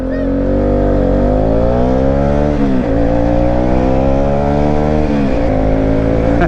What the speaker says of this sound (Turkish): hadi araba geldi